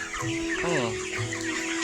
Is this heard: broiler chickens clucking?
yes